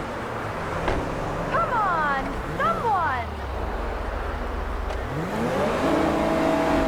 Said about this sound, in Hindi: आज मैं अपनी छोटी गाड़ी में ही आया हूँ